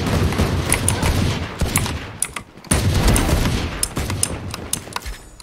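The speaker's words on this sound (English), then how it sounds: "I just hear the shots of sheriffs going everywhere!" Sheriff revolver shots from many players fire in a Sheriff-only deathmatch video game, loud overlapping cracks in rapid irregular bursts with a brief lull, close and continuous throughout.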